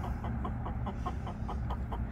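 Four hens and two roosters in a backyard coop at night in hot Arizona weather, soft rhythmic clucking repeating about every quarter second over a steady low hum.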